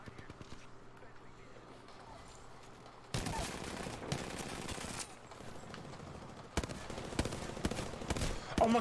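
Gunfire in Apex Legends on Xbox. Distant shots at first, then loud close bursts of automatic fire in two long stretches, with a player talking underneath.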